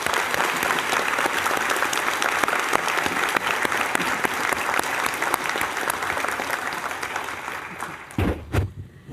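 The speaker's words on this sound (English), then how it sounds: "Please join me in a round of applause" A steady round of applause fills a White Coat Ceremony hall for a medical school class, dense and continuous before tapering off near the end.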